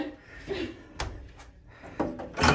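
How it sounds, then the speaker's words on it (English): A hotel room door at the Rio in Las Vegas closes indoors, giving a few dull thuds and a final latching knock, fairly quiet, in a still room. "You close the door."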